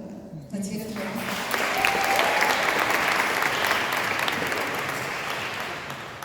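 An audience at an open mic show in London applauds a darbuka percussionist: a sustained wash of clapping that swells after a brief start, with some crowd noise and voices mixed in.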